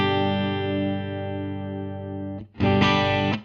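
An electric guitar played with a clean tone lets one full chord ring and slowly decay for over two seconds, then after a brief gap a fresh strummed chord sounds loud and sustained, then cuts off, with no voices.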